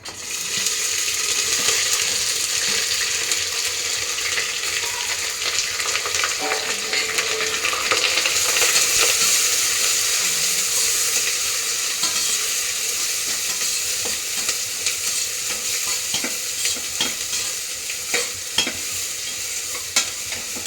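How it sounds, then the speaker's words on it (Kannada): Onions and green chillies fry in a pan, giving a continuous sizzle with scraping stirs throughout, fairly loud and close, with no talking. "ಇದೊಂಚೂರು ಫ್ರೈ ಆಗಲಿ ಈರುಳ್ಳಿ"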